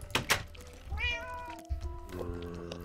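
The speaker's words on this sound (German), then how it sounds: "Katzen werden hier gequält, das ist aber nicht okay." Cat meowing in the Running Red 2 video game, several short meows with rising and falling pitch, fairly close, after a couple of dull thumps at the start.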